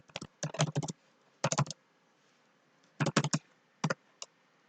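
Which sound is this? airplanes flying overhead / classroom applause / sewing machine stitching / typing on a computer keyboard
typing on a computer keyboard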